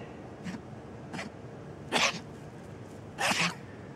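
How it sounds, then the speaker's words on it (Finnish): A tame fox sneezes four times in short, sharp bursts, the last two louder and close by, over a quiet background. "Nyt se sai musta ihan selvästi ihmisbakteereita ja tuli aivastuskohtaus."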